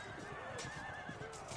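Javelin cavalry horses in the Field of Glory II battle game: repeated neighs and whinnies over quiet clip-clop hooves, faint and set back in the mix behind distant battle ambience.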